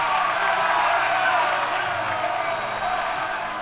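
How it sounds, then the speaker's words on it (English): A crowd in World of Warcraft Dragonflight cheers, a broad, diffuse roar of massed voices that stays steady and fairly loud throughout, with no clear individual words standing out. "And so the crowd cheers."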